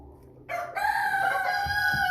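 An American Bresse cockerel crows once, close and loud, a single drawn-out cock-a-doodle-doo with a rising start and a sustained tail, alone without talk.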